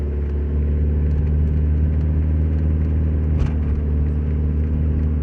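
Car cruising on a freeway, heard from inside: a loud, steady low engine and road rumble drones continuously, with faint tapping sounds on top.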